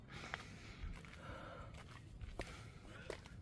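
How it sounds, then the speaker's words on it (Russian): Heavy, labored breathing with gasps and sighs from someone climbing Fourvière hill in Lyon in 35-degree heat, close to the microphone over outdoor background noise. "Я дышу."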